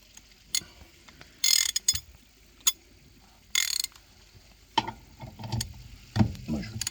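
Ratchet wrench clicking off bolts, short sharp bursts of ratcheting separated by pauses, close and fairly loud, with some clanking of metal near the end.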